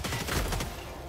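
A Helldivers 2 anti-aircraft gun fires a rapid burst of several heavy, booming shots in quick succession, fairly close, then fades out into a short reverberant tail.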